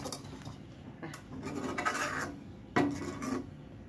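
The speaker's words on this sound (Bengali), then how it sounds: "আমি মিষ্টি তৈরি করতেছি, কিন্তু নিচে বারবার এভাবে নেড়ে দিতে হবে।" Milk kheer with red sugar and a cardamom pod being stirred in a pot, giving soft repeated rasping scrapes of a spoon along the bottom, close and moderately quiet, with a couple of sharper knocks.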